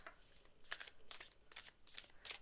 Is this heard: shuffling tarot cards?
yes